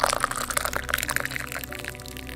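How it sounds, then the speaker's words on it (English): Hot liquid poured from a spout into a fine china cup, a close, bright trickling and splashing stream that gurgles steadily and then thins out toward the end over a low hum. "It was the distinct, crisp sound of a hot liquid being poured from a spout into a fine china cup."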